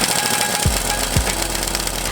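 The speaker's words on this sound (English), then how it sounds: "I think I'm just gonna put it on the big impact and see what happens." Big impact wrench hammering steadily and loudly on a seized brake caliper piston on a Honda, a continuous close rattling drone with no pauses or voices.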